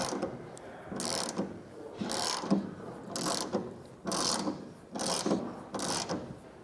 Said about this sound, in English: So I grab my own bit and a longer wrench, and I'm going to remove this bolt up top.